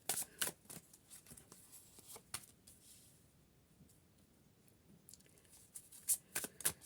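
Quiet crisp riffling of tarot cards being shuffled in short bursts, pausing briefly in the middle before resuming; no one speaks.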